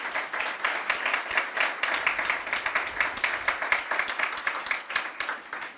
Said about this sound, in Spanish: Y yo pido un aplauso por él